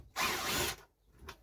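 A power drill backs a screw out of a wooden shed: one short whirring burst lasting about half a second, then a brief second blip, close and alone.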